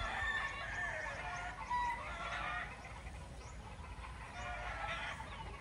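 A sweater gamefowl rooster from Tennessee crows and clucks at a game farm, sounding fairly distant and continuous against steady outdoor background noise, with no speech.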